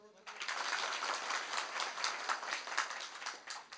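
An audience claps steadily in a dense, continuous burst of many hands that starts abruptly and holds at an even level throughout.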